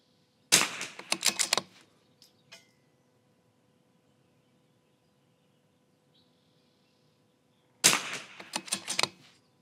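Vudoo Three-60 rifle fired at an outdoor range: two quick bursts of sharp cracks with short ringing tails, separated by several seconds of near silence, loud and close.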